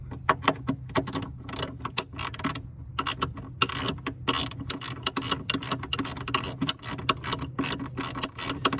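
A ratchet tightening the brake hose bracket on a 1991 Buick LeSabre, giving rapid close clicking in quick uneven bursts with brief pauses and no speech.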